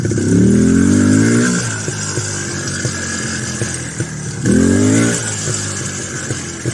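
IZh Planeta 5 enduro motorcycle riding along a road, its engine loud and close, with two rising revs as the rider throttles up, settling between them into a steady running drone.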